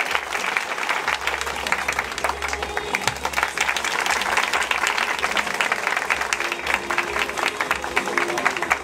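An audience at a SKYBONZ showcase claps in sustained, dense applause with faint crowd murmur and a low background hum underneath, steady throughout.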